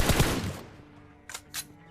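Gunfire in the mobile battle-royale game PUBG Mobile, a few quick shots at the start followed by two sharper reports about a quarter second apart, heard alone with no talk.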